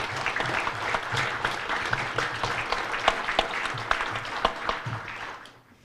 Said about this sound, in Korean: 여러분 다시 한번 큰 박수 부탁드립니다.